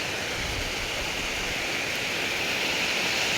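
Stream water flows at a creek fishing spot, a steady even rushing hiss with no breaks, close and constant.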